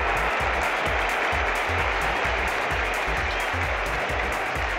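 A cricket crowd at a World Cup match applauding a boundary hit, dense sustained clapping and cheering from a large stadium audience, loud and continuous throughout with no voices.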